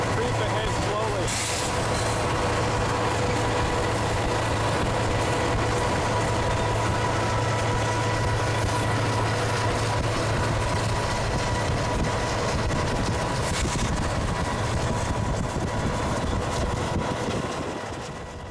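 Model railroad locomotive creeping slowly ahead on a layout, its steady motor hum and rolling rumble running continuously at a constant level, with faint background room noise.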